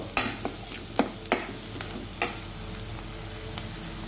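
Onions being stirred in a hot pan for bread oggarane, a spoon or spatula scraping in scattered sharp strokes over a low steady sizzle, with no one talking.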